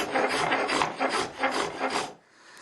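A wooden guitar neck is hand-carved in long, even rasping strokes, about six rhythmic scrapes close to the listener, with no talking, before the sound stops.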